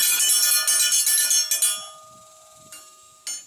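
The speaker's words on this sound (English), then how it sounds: "The dinner bell for the boys." A rusty iron dinner bell clangs rapidly in a burst of bright metallic strikes, then rings out and decays with a long shimmering tone, followed by two lighter single taps.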